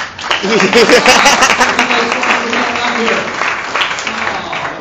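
Applause from the crowd at a family reunion rises up and carries on throughout, mixed with voices and chatter from people nearby.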